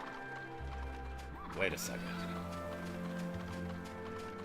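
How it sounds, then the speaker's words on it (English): A horse whinnies once briefly in the middle over a steady ambient drone in the game Dragon Quest VIII on PlayStation 2, with a person speaking over it. "And there's a horse. Who makes a horse noise?"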